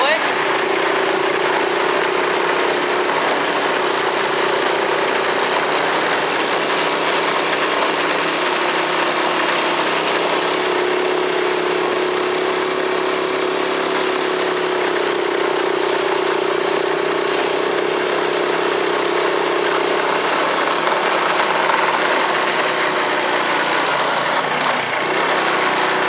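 Small engine, most likely a car's, running steadily in third gear while driving, with a continuous hum and faint vibration throughout.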